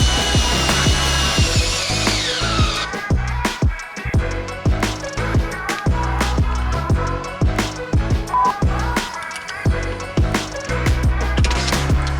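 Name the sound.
drill with socket mounting mud flaps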